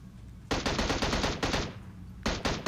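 Rapid gunfire in PUBG Mobile comes as several tight bursts of sharp shots, with a pause before a final burst. The shots sound fairly faint and distant, with no talking.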